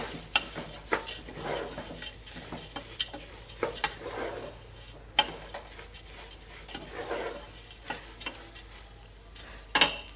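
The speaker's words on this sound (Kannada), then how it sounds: "ಇವಾಗ ಅಕ್ಕಿ ಹಾಕಿದ ಮೇಲೆ ಒಂದು ಸರಿ ಚೆನ್ನಾಗಿ ಮಿಕ್ಸ್ ಮಾಡ್ಕೊಳ್ಳಿ" Basmati rice being stirred in a hot pan for paneer biryani, with repeated scraping strokes of a spoon against the pan over a soft sizzle, plus occasional sharp metallic clinks.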